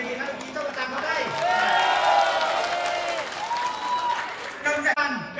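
Audience at a company sports-festival award ceremony clapping for prize winners, a steady round of applause with music and a voice over it, moderately loud.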